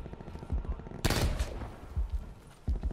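Gunfire in Call of Duty Warzone on Rebirth Alcatraz: a loud, sudden burst of shots cracks out, then smaller pops follow in the short stretch after, with faint voices in the background.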